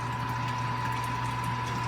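A pump moves sparge water on an electric home-brewing setup for a double batch of beer, giving a steady hum with a constant tone under soft, continuous watery rushing.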